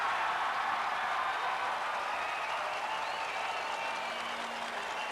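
A huge crowd lines Broadway for the 1996 Yankees World Series parade in New York, a continuous wash of applause and cheering at a steady, dense roar.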